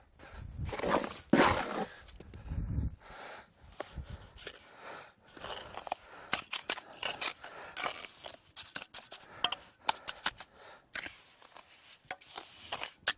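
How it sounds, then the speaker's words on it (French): Cement worked into the joints of a dry stone garden wall and tamped down, heard as loud, close scraping, crunching and gritty scooping strokes in irregular bursts, with no talk. "remplir de ciment les joints et bien tasser le ciment"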